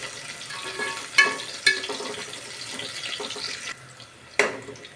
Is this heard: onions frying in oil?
yes